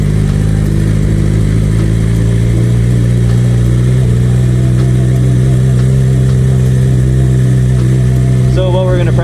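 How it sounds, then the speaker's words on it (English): A motorcycle pulling away gently in first gear with no throttle in a parking lot, its loud close engine drone steady and even from start to finish. "put her in first gear, slowly let it go, and we're off to the races"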